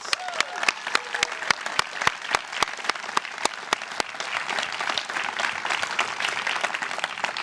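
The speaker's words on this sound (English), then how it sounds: "Let's give them a big round of applause." Graduation ceremony audience applauding the seated graduates, a steady roar of many hands with one loud, sharp nearby clapper standing out in regular beats for the first half.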